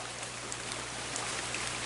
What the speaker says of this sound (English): and then it starts raining